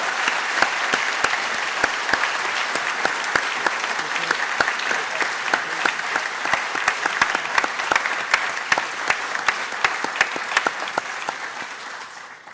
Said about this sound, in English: I'd like everybody to give Alex a round of applause to celebrate his achievement.